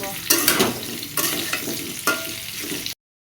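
Potatoes frying in a pan, giving a close, bright sizzle with several sharp stirring scrapes and splashes of oil at intervals before the sound cuts off abruptly.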